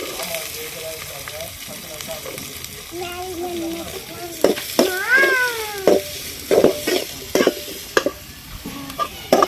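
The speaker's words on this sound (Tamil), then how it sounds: "வெங்காயம் போட்டு நல்லா வதங்கணும்" Onions sauté with garlic and vadagam in a pan during village-style cooking, a continuous soft sizzle with stirring scrapes, overlaid by intermittent warbling calls that sound like a cat or voices.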